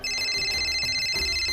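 A steady electronic phone ringtone with repeating tonal beeps, close and clear, playing on its own for a moment.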